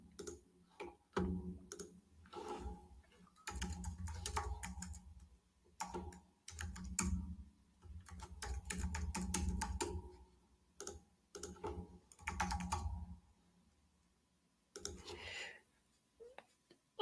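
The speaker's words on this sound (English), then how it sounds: "easy on the keyboard, dude. It gets loud, huh?" Keys clatter on a computer keyboard in irregular bursts of loud typing with short pauses between, close by and fairly prominent, with no clear talk over it.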